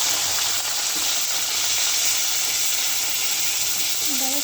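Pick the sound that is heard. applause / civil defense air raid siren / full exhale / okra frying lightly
okra frying lightly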